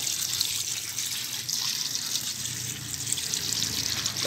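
Running water is poured over sacks of produce, a continuous close splashing and trickling stream of water with no voices.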